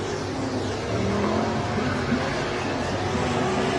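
IMCA Modified race cars ripping around the dirt oval at Coos Bay Speedway during a heat race, a loud, continuous roar of several engines at high revs with no talking.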